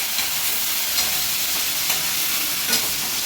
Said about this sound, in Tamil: எல்லாம் நல்லா வதங்கட்டுங்க